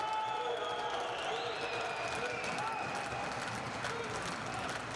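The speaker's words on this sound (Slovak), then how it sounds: "A samozrejme aj mohutný potlesk na tribúnach" Sustained applause and crowd noise from spectators in the stands at a Tipsport Liga ice hockey game, a steady wash of clapping and murmur throughout, with a voice talking over it.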